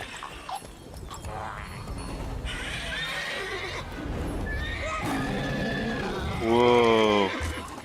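Roach, the horse in The Witcher 3, gallops with steady clip-clop hoofbeats while game music and effects play, then gives a loud, close whinny near the end.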